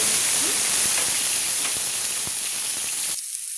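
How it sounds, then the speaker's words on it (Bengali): Potato pieces fry in hot oil in a pan, giving a loud, dense steady hiss and crackle that cuts off abruptly near the end. "আলু দিয়ে আমি দেখুন ভেজে নেব"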